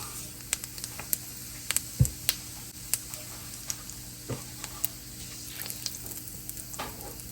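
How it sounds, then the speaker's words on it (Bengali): Whole cumin seeds crackle in hot mustard oil, sharp pops and spits scattered irregularly over a low steady sizzle. "এবার এই এর মধ্যে দিয়ে দিয়েছি সর্ষের তেল এবার আমি আলুর দমটা তৈরি করে নেব আর এর মধ্যে দিয়ে দিচ্ছি আমি গোটা জিরে"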